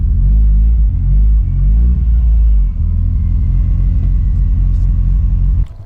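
Car driving on a first short run, its engine a steady low rumble close by that shifts pitch with throttle, easing off near the middle and cutting out abruptly at the end.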